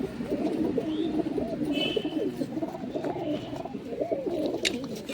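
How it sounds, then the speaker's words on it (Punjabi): Pigeons coo steadily in repeated throaty phrases, close by, with a faint higher chirp now and then. "ਇਹ ਹੈਗੇ ਡੋਲੀ ਵਾਲੇ ਕਬੂਤਰ"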